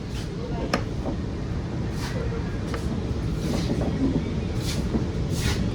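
Steady rumble of a Mumbai metro train in motion heard from inside the crowded carriage, with muffled passenger chatter and faint rhythmic clicks.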